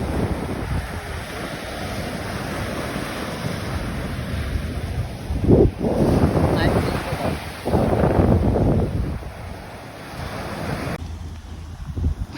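Ocean surf at a beach on a windy day, with a constant rush of waves and heavy wind buffeting the microphone, a few louder wave swells rising midway, and faint voices in the background.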